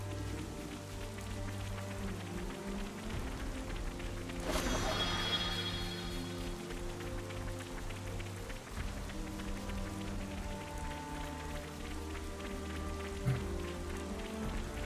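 Steady rainfall in the game Xenoblade Chronicles 3, a continuous soft patter spread evenly through the scene, with one brief louder crash partway in and faint low background music.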